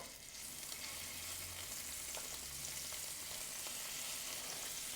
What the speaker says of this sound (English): Let's grab our scallies. Get them in there. Now we want a good sear on them.